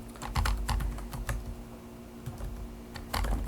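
Keys clatter on a computer keyboard in quick clustered bursts, then pause before a final flurry, close and moderately loud with no voices.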